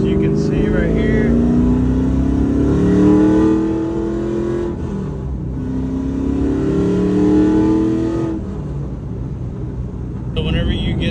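A Chevrolet F-body's engine revs up and settles in two rising sweeps, loud and close, with a brief drop between and a short burst at the end.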